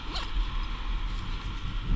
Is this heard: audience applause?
no